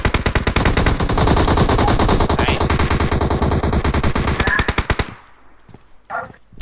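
Rapid automatic gunfire in a video game, a loud, sustained stream of close shots for about five seconds that cuts off abruptly, followed by quieter sounds and a brief voice.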